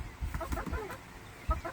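A rooster among chickens in a backyard pen gives short, close clucking and crowing calls in a quick burst, fairly loud against a quiet background.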